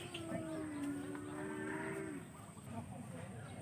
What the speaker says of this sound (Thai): พามาชมควาย แม่เดี่ยวนะครับ